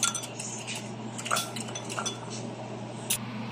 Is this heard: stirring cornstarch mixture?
yes